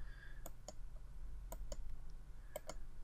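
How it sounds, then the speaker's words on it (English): Computer mouse clicks sound while toggling layer visibility icons in design software, crisp and close, coming in pairs: two clicks, then two more, then another two, over a faint low hum. "We can do this by clicking the little eye icons on individual layers."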